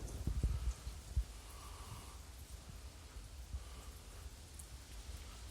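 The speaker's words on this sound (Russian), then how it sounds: "Обещали сегодня сильный ветер с дождем. Вот он идет." Strong wind driving rain at night, a steady rushing hiss of rain over low gusty wind rumble with a few louder bursts near the start; no voices.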